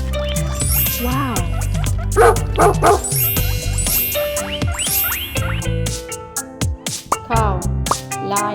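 A dog barks and yips repeatedly in short bursts, loud and close, over cheerful children's music with chimes in a farm animal sound-and-feed sequence.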